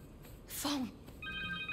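A cell phone rings in the video game Spider-Man 2; a faint, steady electronic ringtone starts near the end, after a short whooshing sound and a brief voice.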